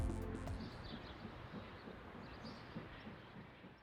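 German steam locomotive 52-4867 pulling out of Neustadt station with an early morning train toward Alzey, a steady broad rumble that eases slightly over a few seconds, with faint bird chirps in the background.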